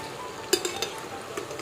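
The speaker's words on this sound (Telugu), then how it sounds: "హై ఫ్లేమ్లోనే పెట్టుకొని ఫ్రై చేసుకోవాలి" Leftover idli pieces fry in hot oil over a high flame with a soft, constant sizzle, broken by a few light clinks of stirring against the pan.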